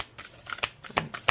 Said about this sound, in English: as I was shuffling for this particular card to come out